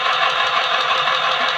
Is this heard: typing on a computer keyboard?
no